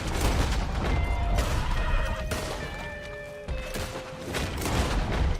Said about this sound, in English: my gun sounds really dirty. My gun sounds so dirty